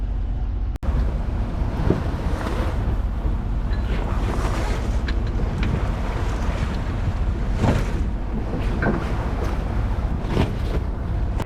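Ocean swell and gusting wind roar around a sailboat near an island anchorage, a loud continuous wash with rolling surges and scattered splashes, no speech.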